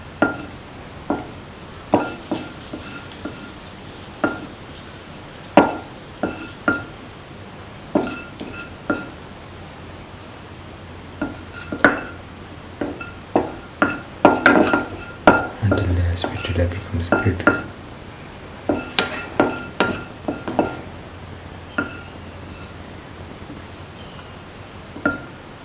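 Dates pickle with asafoetida and salt is stirred and sautéed in a pan: a steady series of sharp metal spoon clinks and scrapes against the pan, close up, with a denser flurry of stirring partway through and a voice talking at times.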